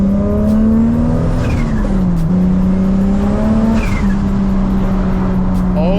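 A loud 600hp MK4 Toyota Supra engine drones steadily, its pitch climbing and dipping as it revs and accelerates, close up and continuous throughout.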